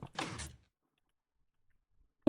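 A redstone door in Minecraft operates with a short, dense mechanical whoosh of moving blocks. Silence follows, then one sharp click at the very end.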